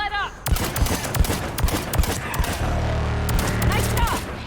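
Rapid bursts of gunfire in a video game, sharp repeated shots cracking out in quick, irregular volleys, with a low rumbling hum beneath and voices calling out between shots.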